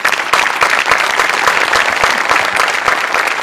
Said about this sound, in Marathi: सचिन मोटे आणि अमोल पाटील दोघांसाठी प्रचंड टाळ्या व्हायला पाहिजे